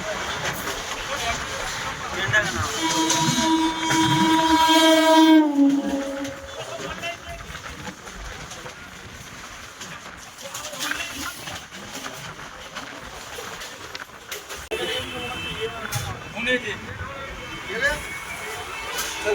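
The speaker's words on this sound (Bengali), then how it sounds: "এখান থেকেই ট্রেন আমাদের ছেড়ে দিয়েছে সোনারপুর থেকে" A local train pulls out of Sonarpur junction on the Sealdah–Diamond Harbour line. A loud, sustained horn-like tone lasts about five seconds, then gives way to a steady rolling rumble that continues to the end.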